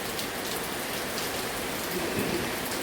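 Steady rain falls on a hard surface, a dense even patter with no pauses and no voices.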